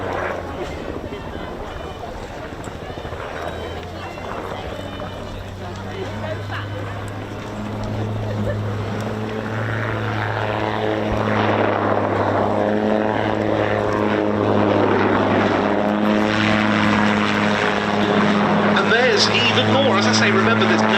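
An autogyro with an unpowered, freely auto-rotating rotor performs extreme manoeuvres at the East Kirkby airshow, its propeller engine droning and swelling louder over twenty seconds beneath continuous commentary over loudspeakers.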